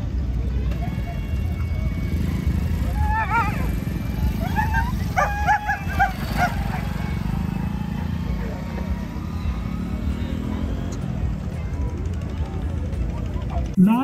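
Greyhounds bark and yip in short bursts at a dog race in Tarn Taran, the barks clustered mid-clip against a steady crowd and loudspeaker commentary.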